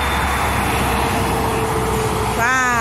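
A truck rumbles past at close range with steady broadband engine and road noise, rising into a brief whining, tonal sweep near the end as it goes by.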